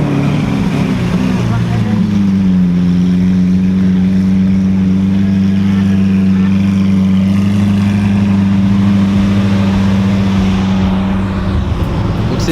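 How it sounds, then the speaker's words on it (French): An Alfa Romeo 8C with its Maserati engine revs loudly nearby at the Zoute GP, a strong, sustained engine note holding a steady pitch before dropping away near the end. "c'était la 8C qu'on a entendu mettre les gaz"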